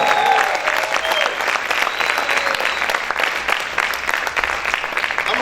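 A Spanish-speaking church congregation claps loudly and steadily in praise, with the rapid applause filling the whole stretch and a few voices faintly audible beneath it.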